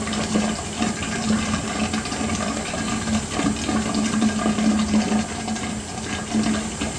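Water runs steadily from a sink tap during hand washing before ointment compounding, a continuous close rushing stream with no break throughout.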